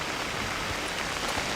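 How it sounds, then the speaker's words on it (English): Rain in a TV show scene, a dense, even hiss of falling water with no distinct drops, steady and fairly loud from start to finish. "It is always raining or they're in water."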